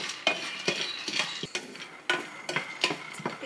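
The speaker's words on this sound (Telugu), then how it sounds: "పీనట్స్ కూడా ఫ్రై అయిపోయాయి మనం ఇప్పుడు తీసేద్దాం." Peanuts fry in a pan while a spoon stirs and scrapes them in quick, repeated strokes over a faint sizzle, close and clear, with no voices.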